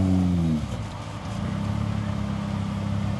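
A 4x4 off-road vehicle at a national challenge course in Brits, its engine droning steadily at low revs as it crawls and slides into position, with a brief louder rev at the start.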